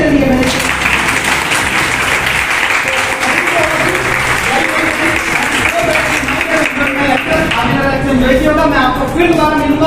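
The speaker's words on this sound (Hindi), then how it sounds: "ताली बजा दो मेरे लिए" Audience applause fills a seminar hall at a management institute in Jagadhri, steady dense clapping running throughout, with voices and some talk mixed in underneath.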